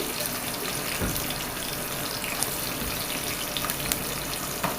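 Onions fry in hot oil in a pan with a low, steady hiss and crackle, with a few soft clicks of the pan over it.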